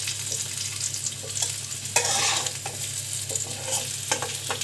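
Boiled potatoes fry in a pan on a home stove, a steady close sizzle broken by scraping stirs and clinks of a utensil, with no talking.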